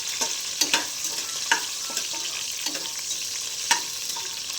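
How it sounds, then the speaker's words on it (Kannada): Whole cinnamon and cloves fry in oil in a pan, a steady close sizzle punctuated by sharp, irregular clicks and scrapes of a spoon stirring against metal. "ಸ್ವಲ್ಪ ಅದು ಸ್ವಲ್ಪ ಫ್ರೈ ಮಾಡ್ಕೋಬೇಕು"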